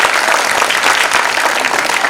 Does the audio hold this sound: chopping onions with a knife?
no